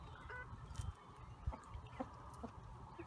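Young chickens about four months old clucking in a yard, giving short scattered clucks and low throaty calls at moderate distance over a soft outdoor background, with no talking.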